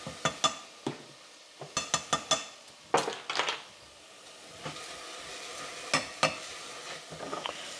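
Spices stirred into frying onion and garlic in a pan for veal creton, with clusters of sharp spoon scrapes and clacks over a soft sizzle, fairly close and quiet, no voices.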